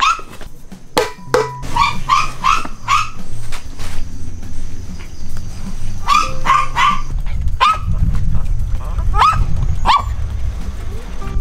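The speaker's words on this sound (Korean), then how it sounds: "여기 조그마한 개들이 많네요." Small dogs at a home shelter for abandoned cats and dogs bark in repeated sharp bursts and yips, close and loud, with scattered pauses and background rustling throughout.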